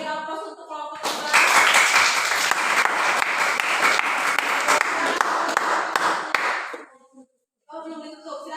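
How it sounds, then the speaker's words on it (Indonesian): Audience applause and clapping for a student group after their classroom poster presentation, a dense sustained burst lasting about six seconds before cutting off, with talk just before and after it. "kita beri aplaus untuk kelompok 2"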